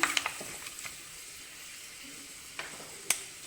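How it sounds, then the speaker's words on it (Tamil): Mustard seeds and fenugreek spluttering in generous hot oil for a fish curry: a steady soft sizzle with a few sharp pops early on and two more crackling bursts near the end. "கடுகு நல்லா பொரிஞ்சு வரட்டும்"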